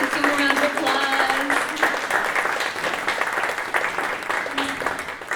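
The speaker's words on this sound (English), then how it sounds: "Let's give a round of applause." Audience at a funders' convening applauding, sustained clapping that gradually thins, with a voice speaking over it near the start and again toward the end.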